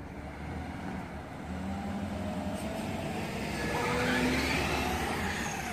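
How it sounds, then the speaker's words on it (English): A Traxxas Rustler XL-5 brushless RC car runs across a parking lot at high speed, its steady motor whine rising and falling in pitch as it accelerates and turns, with a faint tire scrub, fairly near and continuous. "driving a brushless RC car that goes like over 50 miles an hour at a parking lot"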